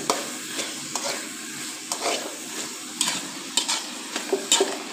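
A spoon stirs chicken lasagna filling with tomato ketchup in a sizzling pan, soft scraping strokes and clinks repeating over a steady frying hiss, close and fairly quiet.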